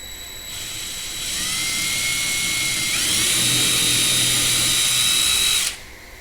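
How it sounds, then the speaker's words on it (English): A power drill with a 1/16 inch bit whines steadily at high pitch, its tone climbing as it bites through a Dodge Challenger hood for a hood pin, then stops abruptly. "Now he's gonna drill it with a 1/16 drill bit."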